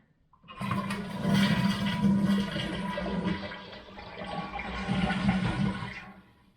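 A toilet is flushed during a DIY repair and water-saving upgrade: a loud, close rush of water starts abruptly, churns steadily for several seconds with a low gurgling roar, then tapers off, with no talking.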